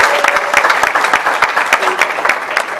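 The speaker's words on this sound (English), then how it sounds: "Can we give them a massive round of applause?" An audience claps in a dense, sustained burst of applause, loud and close, with sharp individual claps standing out.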